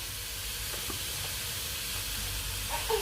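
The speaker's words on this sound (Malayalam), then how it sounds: "നമുക്ക് ആ എണ്ണയിലിട്ട് ഇതൊന്ന് വഴറ്റണം" Beetroot for a Kerala beetroot thoran sautéing in hot oil, giving a steady, even sizzle and hiss that stays constant and fairly quiet throughout, with no talk.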